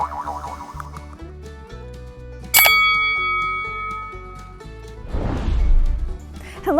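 A bright notification bell chime rings once sharply amid a short playful sound-effect jingle with bouncy tones and a whooshing swell near the end.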